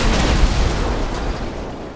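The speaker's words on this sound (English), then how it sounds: "Officer down, gas station explosion." Gas station blowing up in a video game roleplay, a loud low booming rumble that fades gradually over two seconds with no voices.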